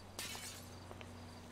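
Glass breaking in GTA 5: a single sharp shatter lands early, rising out of a constant low hum and fading into faint tinkling debris.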